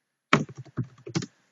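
A quick burst of keystrokes on a computer keyboard while an HTML line is entered: about a second of close, crisp clicks in an uneven rhythm, with silence before and after.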